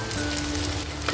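Water poured into a hot pan sizzles loudly while Indomie noodles are being cooked, a dense, close crackling hiss that runs steadily through the brief moment.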